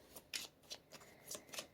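Tarot cards are shuffled in quick, crisp riffling bursts, about half a dozen short flutters close to the listener with brief gaps between them.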